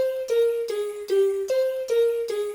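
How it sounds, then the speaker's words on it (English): Dry self-made synth built from the producer's own voice, a sampled vocal tone chopped into six evenly spaced stabs at a steady mid pitch, close and clean, nothing underneath. "This is actually a synth I made, completely dry."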